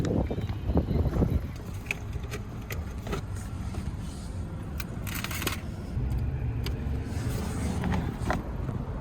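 A car drives along a road during a tuning data-log run, with a steady low rumble of engine and road noise from inside the cabin and scattered faint clicks and rustles, no talking.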